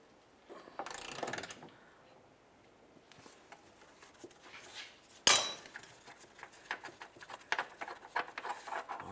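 A wrench with a 16mm socket turns a rear shock bolt on a 2007-2012 Nissan Sentra, giving faint ratcheting clicks and metallic clinks, with one sharper clank midway, all quiet and close.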